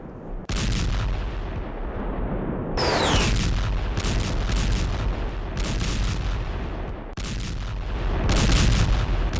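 Loud, heavy explosions from JDAM bombs striking a Russian base, with a sharp blast near the start, a second violent crack about a third of the way in and another late, each followed by sustained rumbling roar.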